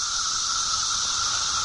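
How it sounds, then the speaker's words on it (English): A recorded cicada chorus is played on air, a loud, steady, unbroken buzzing drone with no talk over it. "That's the sound of the cicada."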